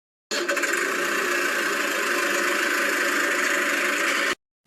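A tractor engine runs steadily and loudly for about four seconds, a dense continuous mechanical drone that starts and cuts off abruptly, with no talk over it.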